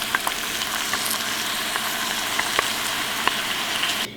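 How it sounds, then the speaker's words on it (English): Organic spaghetti sauce simmering in a pan, a steady close bubbling sizzle with small scattered pops and spits, continuous until it cuts off abruptly at the end. "I'm going to pull the sauce together so it can simmer for a few minutes and get really yummy."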